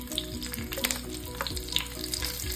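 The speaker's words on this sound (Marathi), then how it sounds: "एक शिमला मिरची अशी तेलामध्ये सोडायची आणि सर्व बाजूनी आपण याला भाजून घेणार आहोत झाकण ठेवून" Stuffed capsicum frying in hot oil with cumin, giving a steady close sizzle and crackle throughout with small popping bursts and no voices.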